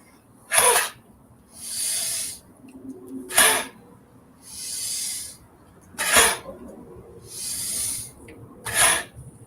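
Sharp, forceful coughs in a qigong breathing exercise repeat four times at steady intervals, each followed by a long, airy breath; close and fairly loud, with no talking.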